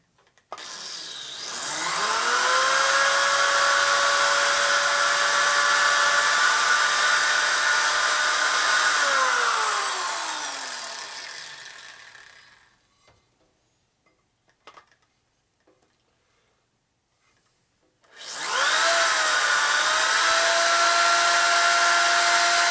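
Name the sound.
drilling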